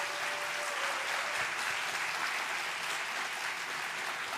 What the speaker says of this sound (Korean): 나오실 때까지 더 큰 박수로 환영해 주시면 감사하겠습니다